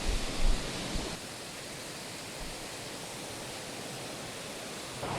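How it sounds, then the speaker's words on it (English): Steady, loud rushing roar of a waterfall in the woods, a continuous broad wash of falling water heard close and alone with no voices. "Waterfall time."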